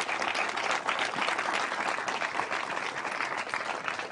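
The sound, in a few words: audience applause at political party speech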